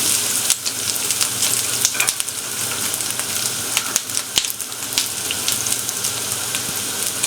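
Macaroni sizzles steadily in a frying pan while being mixed with capsicum, a dense crackling hiss with sharp scraping clicks from the spoon scattered throughout, with no talking.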